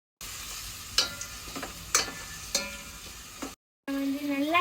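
Ground tomato going into garlic and ginger already browned in a hot pan, bringing a steady sizzle broken by a few sharp scraping stirs, a brief pause, then a louder hiss with a rising whine; no voices.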